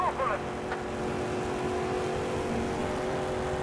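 A racing car engine in the video game TOCA Race Driver 3 drones loudly and steadily at high revs, holding a sustained note with a brief higher whine at the start.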